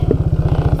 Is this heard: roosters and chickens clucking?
no